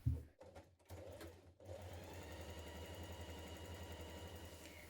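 A sewing machine runs steadily, stitching the long edge of a tote bag pocket with right sides together, one layer interfaced; a few soft clicks and thumps come first, then a continuous even whir.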